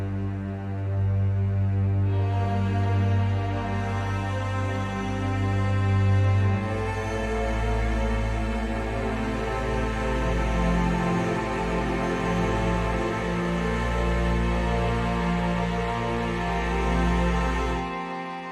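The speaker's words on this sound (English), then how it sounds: "We also have some ensemble strings that play towards the end of the track" Ensemble strings from the Spitfire Albion 1 plugin in an orchestral downtempo track, holding long sustained low chords with a deep swelling bass, steady and soft throughout.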